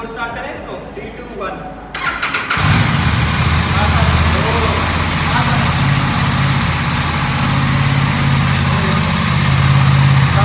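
An Aprilia RS 457 motorcycle engine idles with a deep, bassy exhaust rumble that starts abruptly after about two seconds and holds steady and loud to the end.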